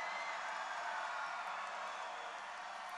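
A large crowd at a political rally in Florida roars and cheers in a continuous, broad wash of voices, loud and sustained without a break.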